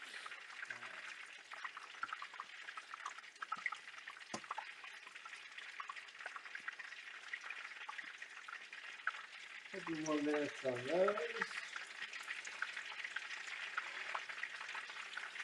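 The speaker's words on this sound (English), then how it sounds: "I'm always afraid with frying too that I'm not gonna cook it long enough." Chicken frying in a pan at home, a faint steady sizzle throughout, with a short stretch of speech partway through.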